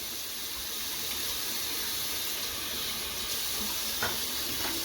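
Tap water runs steadily into a sink as soap is rinsed off makeup brushes, a close, continuous splashing flow with a few small knocks near the end.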